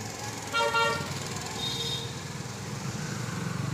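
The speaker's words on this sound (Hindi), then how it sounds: "गाड़ी पर गाड़ी आ रही है।" Car horns toot over steady busy road traffic on a Hindi-speaking town street at evening, with a short honk burst early and another higher horn shortly after, engines rumbling continuously underneath.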